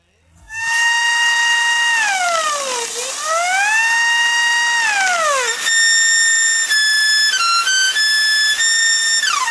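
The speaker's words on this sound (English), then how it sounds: "Doesn't it sound like a siren?" A homemade industrial siren: a loud, piercing wail sounds continuously, its pitch sweeping down and up in long glides, then holding steady with brief stepped dips near the end.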